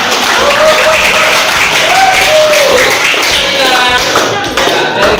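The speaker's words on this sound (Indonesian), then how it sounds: "berikan tepuk tangan" Classroom audience applause, loud and close, a dense continuous patter of clapping with a voice heard over it partway through.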